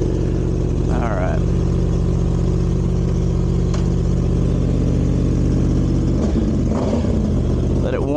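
A 2023 Yamaha R1 sport bike, ECU-flashed and dyno-tuned, runs with a loud, close, steady engine drone and a few sharper revs, while a voice talks intermittently over it.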